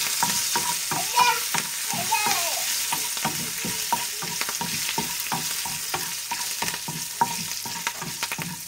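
Tempering with asafoetida and curry leaves stirred in a hot pan for a Konkani sambhar, a continuous close sizzle and crackle broken by repeated scraping spoon strokes.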